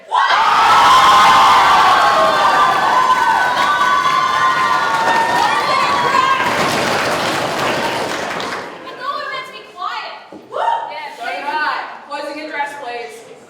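Crowd cheering, whooping and clapping at a university guild presidential debate, a loud roar lasting several seconds that then breaks off, followed by a few people talking.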